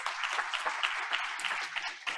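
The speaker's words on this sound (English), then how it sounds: "Let's give them another round of applause." Audience applause honoring North Park students and staff at a Board of Education meeting: a dense, steady patter of many hands clapping at close range, with no talk.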